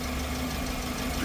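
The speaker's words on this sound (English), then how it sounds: "Now the engine stabilizes at idle" A car engine settles into idle with a restricted exhaust from a clogged catalytic converter, a steady, moderate hum with a low constant tone, briefly and without talk.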